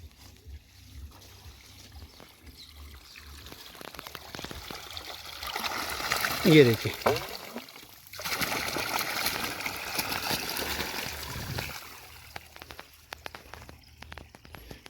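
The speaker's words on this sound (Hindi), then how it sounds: "ये लाइट से चलने वाली मोटर है और मौसम भी ख़राब है, फिर भी ये इतना पानी निकाल रही है" Water gushing from the discharge of a solar-powered pump motor in overcast weather, a steady rushing flow that swells midway with some handling noise, with a brief spoken remark.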